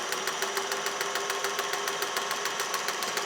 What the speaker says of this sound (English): I'm sewing on some upholstery fabric here